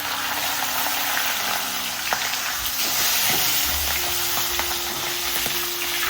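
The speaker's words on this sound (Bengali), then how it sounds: "এবার ভাজতে দিয়ে দিচ্ছি। আগে মাথাগুলোই ভেজে নিচ্ছি আমি।" Fish heads rubbed with salt and turmeric frying in hot oil, a loud, steady, dense sizzle and crackle that runs the whole time with a few small pops.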